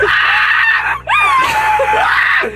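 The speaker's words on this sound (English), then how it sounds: "I can scream." Someone practices a harsh metal-style vocal scream: a loud, sustained, raspy shriek held almost without a break, with a brief dip where a breath is taken midway.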